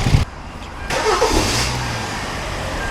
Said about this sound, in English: Okay, so it starts up.